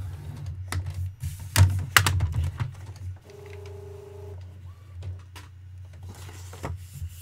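A letter-size paper sheet being scored in half for a handmade card, giving sharp close taps and clicks, a brief steady mechanical tone in the middle, and soft papery rubbing, with no speech.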